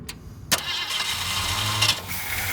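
A 1967 Ford Mustang engine cranks briefly and catches, then settles into a steady, close idle for the remaining couple of seconds.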